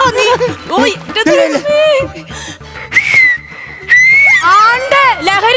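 A person whistles in short, clear sustained notes and rising glides during a comedy skit, mixed with lively talking and laughter.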